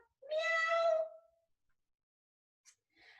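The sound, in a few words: voice imitating a cat meow in kids yoga class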